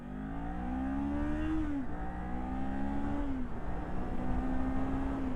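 Kawasaki Ninja 400 motorcycle engine revving up through several gears, each rising whine cut off by a shift before climbing again, heard from the rider's position over wind roar.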